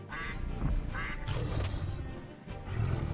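A chicken in the video game Stonehearth, menaced by poisonous giant Varanus, gives repeated nasal, quack-like clucks over a dense low background, close and fairly loud.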